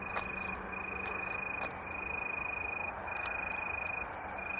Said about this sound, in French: Grillons.